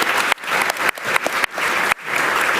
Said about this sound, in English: please give applause with me to these 3